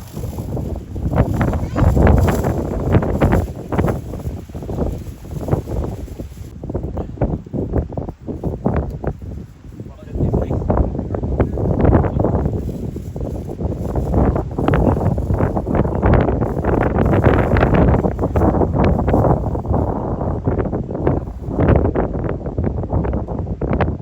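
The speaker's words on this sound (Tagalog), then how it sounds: "Super lakas ng hangin." Strong wind buffets the microphone continuously, a loud roaring rumble that surges and dips in gusts throughout.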